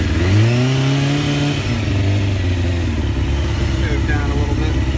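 A 1998 Honda CBR F3 600cc sport bike engine starts cold on choke and revs up, then settles into a steady, close idle, with a person talking over the opening moments.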